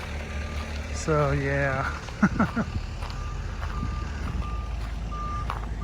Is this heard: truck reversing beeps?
yes